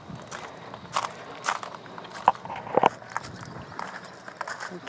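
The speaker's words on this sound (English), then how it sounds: "I'm walking on some pebbles here, so you might hear them crunching under my feet." Footsteps crunching on pebbles near boats at a maritime museum, a loose uneven series of gritty crunches, fairly close and soft, with faint outdoor ambience.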